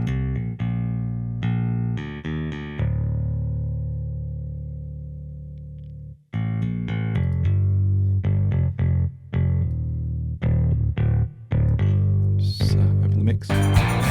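A plucked bass line plays alone through an analog saturation plugin, punchy notes with a long held tone in the middle, then a busier run of short notes, lightly driven and warm.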